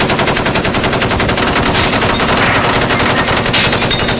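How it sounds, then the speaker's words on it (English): A machine gun fires a rapid, continuous burst of loud, evenly spaced shots, with shell casings clinking onto the floor between the bangs. No voices are heard. "My favorite part is when you hear the shell casing start to hit the floor"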